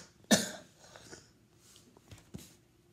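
A person with a cold coughs once sharply and close, followed by a few softer throat-clearing coughs spaced over the next couple of seconds.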